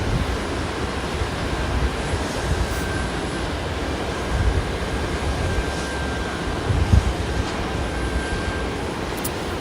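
A United Embraer E-175 airliner arriving at Boise airport, a steady broadband jet roar with a faint high whine, heard from a distance with no talk.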